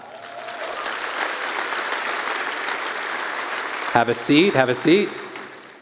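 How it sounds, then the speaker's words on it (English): Audience clapping in a large hall, a broad sustained wash of applause for several seconds that fades as someone speaks briefly near the end. "Clap if you went further a second time."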